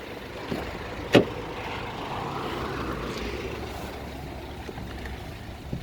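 A car driven slowly while parking, with a low steady engine drone and road hum and one sharp knock or click near the start.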